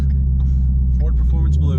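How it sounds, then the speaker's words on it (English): A Ford Mustang GT350 in Ford Performance Blue rumbles past, its deep engine note steady and fairly close, while someone talks over it. "There goes the GT350 right there."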